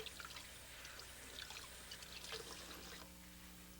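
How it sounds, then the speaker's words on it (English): Cold tap water runs over fresh comfrey leaves being rinsed, a soft continuous trickle and splash heard faintly at a distance, with no talking. "rinse them quickly under cold running water"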